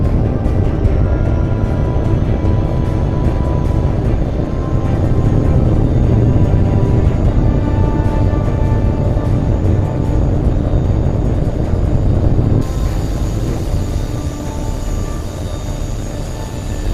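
Jet aircraft roaring through takeoff in the air combat game H.A.W.X. 2, a loud steady engine rumble that holds across the whole stretch and shifts tone partway through, with no talking.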